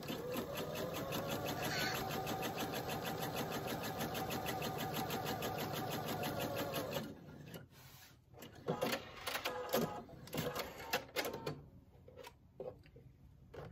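A sewing machine stitches the points onto a scrappy star quilt block, running steadily for about seven seconds before stopping and giving way to scattered handling clicks and rustles.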